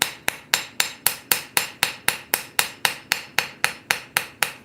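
Steel struck with a cross peen hammer during hand forging: a steady run of about seventeen sharp, ringing blows at an even rhythm, close and loud, with no talk.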